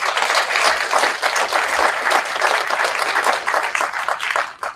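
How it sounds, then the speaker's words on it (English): Sustained applause from the audience at a district candidate forum, loud and dense clapping throughout without speech. "So please give these candidates a round of applause."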